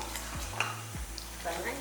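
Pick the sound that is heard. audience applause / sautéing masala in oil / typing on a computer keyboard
sautéing masala in oil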